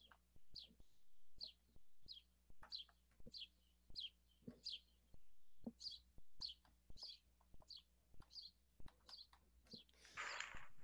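Recorded house sparrow calls play back, a male's short bright chirps repeating in a steady series, each chirp separate, with faint room hum beneath and a brief rustle at the end.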